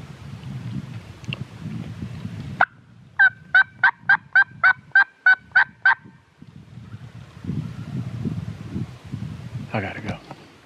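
A Merriam's wild turkey lets out a loud, sharp rattling gobble of about nine rapid pulses, with a brief gobble before it and another near the end, amid rustling and low talk on a public-land hunt.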